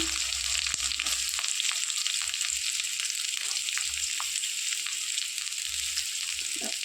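Garlic, curry leaves and chopped onion sizzle in a pan, a continuous bright crackling hiss with small pops and occasional stirring scrapes, close and steady.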